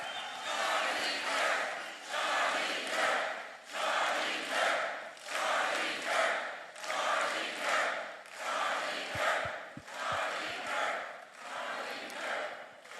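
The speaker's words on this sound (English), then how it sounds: "I want everyone to raise them up and cheer for Charlie." A large university auditorium crowd at a Turning Point USA event chants rhythmically for Charlie Kirk, loud, repeated surging shouts rising and falling in steady waves with a few claps near the end.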